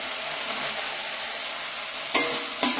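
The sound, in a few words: sautéing fried eggs and peas in spice paste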